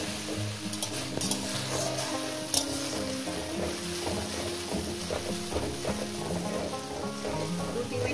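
Soybean curry with spices being sautéed in a pan, close and steady: continuous sizzling and frying with repeated scraping and stirring strokes throughout, no talking.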